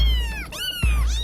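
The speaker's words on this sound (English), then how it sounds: "there's still all these cats here!" Cat meowing in a video game, two close, loud, whiny meows in quick succession over a low rumbling background, with no talking.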